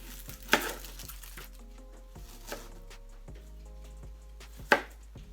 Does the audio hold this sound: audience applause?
no